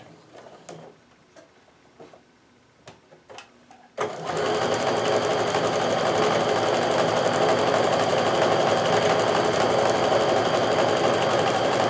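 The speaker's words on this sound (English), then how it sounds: "keep sewing round and round." A sewing machine stitches quilt block pieces in a steady, loud mechanical whir that starts abruptly after a few seconds of soft handling clicks and then runs continuously, close by.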